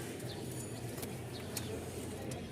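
Domestic pigeons kept as flying and racing birds coo softly at a market stall, a steady low murmur with occasional chirps over a busy background.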